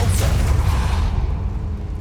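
Depulso force spell cast in the video game Hogwarts Legacy, a loud booming whoosh that sweeps downward, then settles into a fading low rumble over about two seconds.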